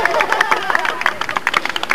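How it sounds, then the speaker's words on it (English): An audience at a dolphin show claps and cheers in a lively, dense patter of hands and crowd noise, close and steady for a couple of seconds. "Give a big cheer out the center."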